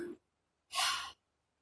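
A teacher demonstrates a gasp: a short voiced fragment, a pause, then one sharp, breathy intake of air, close and clear in a quiet room.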